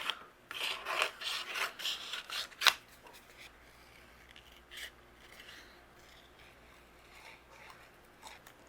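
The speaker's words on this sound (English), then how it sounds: "take my scissors, and we're going to fussy cut out our greeting" Scissors snip through stamped paper images in quick, crisp cuts while fussy cutting, busy at first and then thinning out to occasional quiet snips.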